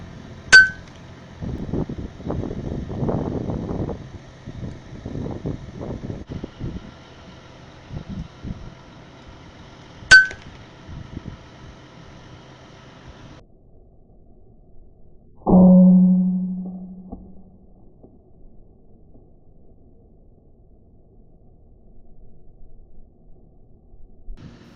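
Two sharp, isolated cracks from a .22 caliber RTI P-3 air rifle ring out about ten seconds apart in quiet night air, each with a brief metallic clink, and a low engine hum surfaces later.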